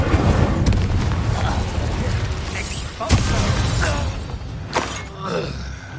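An Incendio fire spell cast in the Hogwarts Legacy video game gives a loud, dense burst of roaring, crackling game effects, with sharper impacts near the middle and end over busy background game sound.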